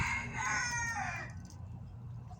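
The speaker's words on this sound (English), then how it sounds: "These are my chickens." A rooster crows loudly and close by among backyard chickens, its call trailing off into quiet farmyard background with a faint sharp knock at the end.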